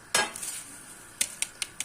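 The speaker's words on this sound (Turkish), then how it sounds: "böyle karıştırmaya devam ediyoruz" A spoon scrapes and clinks against a metal pot of yogurt and mint soup, one sharp knock followed by a quick run of four lighter taps.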